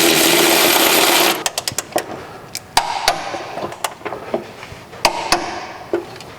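Rear shock bolts on a Dodge Charger police car are tightened to 38 foot-pounds: a brief loud mechanical whir, then a run of sharp, irregular metallic clicks close by.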